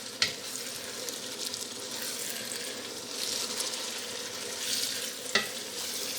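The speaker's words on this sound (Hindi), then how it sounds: "अब हम आलू डाल के भूनेंगे।" Potatoes frying in spiced masala in a pan for an aloo keema dish, a continuous soft sizzle with stirring scrapes and two sharp clinks of a utensil against the pan.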